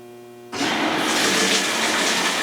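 Hot water suddenly starts rushing into a washing machine set to a normal cycle, a loud steady hiss and splash that begins abruptly after a low hum and keeps running, nearby, with no talk.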